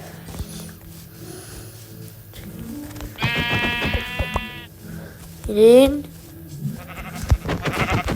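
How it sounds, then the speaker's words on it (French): Sheep in Minecraft bleat twice in clear, close tones between other game sounds, while people talk over the scene. "Il y a deux moutons à côté, c'est bon."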